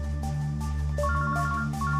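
A mobile phone ringtone plays after a number is dialed, a bright repeating electronic melody of short stepped tones sounding steadily and close throughout.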